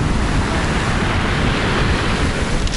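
Stormy sea surf pounding a Sochi beach, a loud continuous roar of breaking waves with heavy wind buffeting the microphone, no voices.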